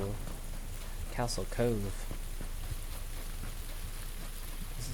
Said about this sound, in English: So it is starting to rain on us now here in our Castle